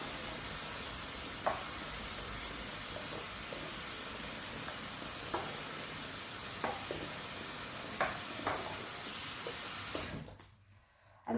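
Fabric dye for a purple-black jumpsuit being stirred in a pot: a constant hissing wash with occasional soft clinks and knocks at a steady pace, cutting off abruptly near the end.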